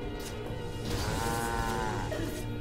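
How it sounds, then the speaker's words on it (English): A cow in the StarCraft II video game gives a single long, drawn-out moo, loud and close against a steady game background hum. "Yeah, got the cow."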